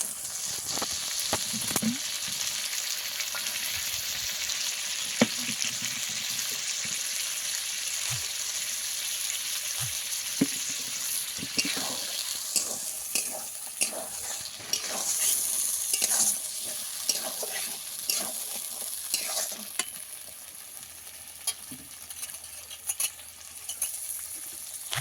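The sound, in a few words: mustard paste being mixed and added to frying pan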